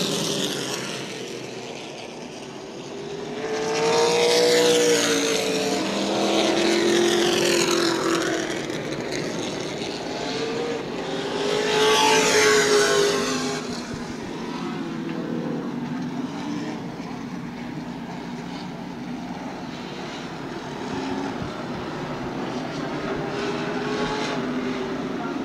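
Race cars roar around New Smyrna Speedway at a green-flag restart of a late-model 100-lap event, a loud sustained engine drone that swells twice as the pack passes, with no talking.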